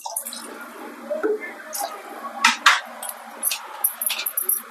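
Water is poured into a pressure cooker holding chana dal, making brief, close splashes and trickles in irregular bursts.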